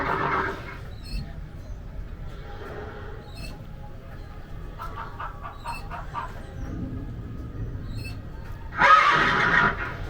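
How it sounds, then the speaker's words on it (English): Horses in a stable at the blacksmith shop area of Magic Kingdom whinny and snort, with a loud neigh near the end and quieter horse sounds under faint background chatter. "Oh, I got the horses in here."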